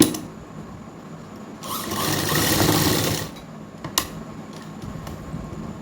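A sewing machine stitches the pocket of ladies' pants in one steady whirring run of about a second and a half, close and loud, followed by a short click and quieter handling.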